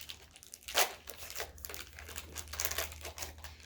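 A package of Model Magic modeling clay is torn and pulled open by hand, making a steady, close crinkling and rustling of plastic wrap with small tearing bursts throughout.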